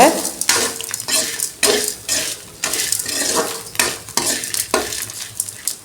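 Horse gram tossed with asafoetida and coconut in a pan, a steady run of close, loud stirring scrapes and clinks from a utensil over a soft sizzle, with repeated strokes about every half second and no voices.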